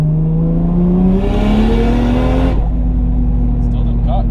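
A turbocharged Toyota Chaser JZX100 engine revs hard, its pitch climbing steadily toward the fuel cut, then falls off abruptly into a lower idle drone, with a brief faint chirp near the end; loud and close throughout.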